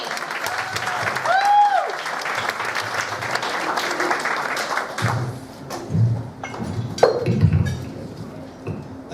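Audience in a comedy club claps continuously as a comedian walks around the room to the stage, steady crowd applause with a brief whistle early on and some thumps and clinks mixed in.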